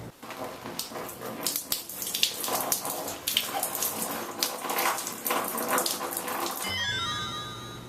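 Water running from a tap or poured onto a block of pink styrofoam, a steady splashing rush that carries on for several seconds and ends with a brighter, ringing flourish.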